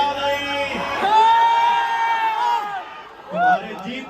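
A crowd at an outdoor rally in Aurangabad shouts, whoops and cheers loudly, with one long sustained yell rising above the din and a fresh burst of cheering near the end.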